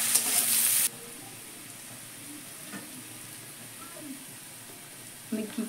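Salted onions hit a pan with a loud burst of sizzling that drops after a second to a quiet, steady fry, with faint stirring clatter and a brief voice near the end.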